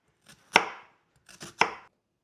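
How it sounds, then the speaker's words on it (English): Knife chopping a half medium onion into strips on a board for Korean budae jjigae: two quick pairs of crisp chops, each a light tap followed by a firmer cut, close and alone. "cut a half medium onion into strips"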